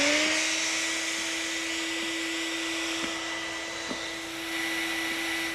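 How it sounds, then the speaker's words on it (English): A shop vac runs steadily under an above-ground pool's vinyl liner, drawing air through slotted tubes and connectors. It is a continuous, fairly loud motor whine and airflow hum with faint ticks, and no voices are present. "Make sure your shop vac is properly grounded and turn it on."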